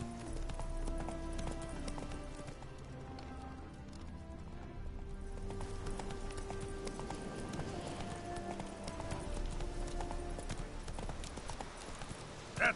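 Roach, a horse in the video game Witcher 3, gallops in a quick, steady clip-clop of hooves, fairly close and continuous, while someone speaks quietly now and then.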